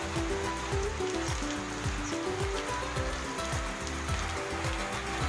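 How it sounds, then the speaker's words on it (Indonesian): Rain falls steadily on surfaces outdoors in a residential neighbourhood, a constant dense patter with drips, loud and close, with no voices. "Alhamdulillah hujan, sehingga udara agak dingin ya."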